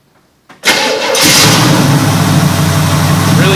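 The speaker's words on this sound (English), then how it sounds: "Battery's not dead, car runs up, touch key." A 1968 Camaro SS V8 engine cranks briefly and catches after a moment of quiet, then settles into a loud, steady, rumbling idle close by.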